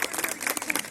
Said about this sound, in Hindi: बच्चे ताली बजा सकते हैं